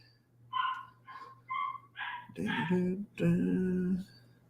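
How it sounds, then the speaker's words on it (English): Puppy barking from a back room, a run of short high yips and whimpery barks followed by two louder, fuller barks, heard at moderate distance over a steady low hum. "My puppy is barking in the back, but he's okay"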